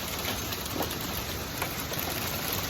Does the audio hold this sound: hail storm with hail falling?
yes